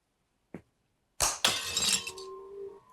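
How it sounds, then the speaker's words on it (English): Glass smashing: one sharp bright crash that bursts out loudly, with shards tinkling and scattering for a second or so after and a thin lingering ring, preceded by a single brief knock. "smashes the glass"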